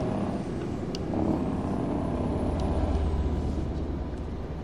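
A Freightliner Cascadia truck in American Truck Simulator rumbles past with a steady low diesel drone and road roar, swelling slightly midway, with no voices over it.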